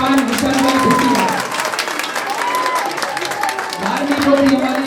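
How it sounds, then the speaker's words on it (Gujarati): A crowd at a mass wedding ceremony in Porbandar breaks into applause, a dense patter of clapping running under someone speaking loudly over a microphone throughout. "જોરદાર તાળીઓથી વધાવો."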